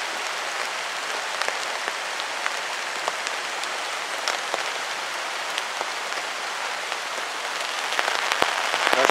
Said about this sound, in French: Bon, il se met sérieusement à pleuvoir.